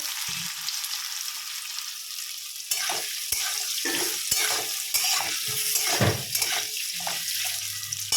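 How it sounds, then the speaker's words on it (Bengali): Potatoes fry in oil until browned with a strong, constant sizzle, broken by frequent spatula scrapes and stirring knocks close by. "আলুগুলো এবার লাল লাল করে ভেজে নেব"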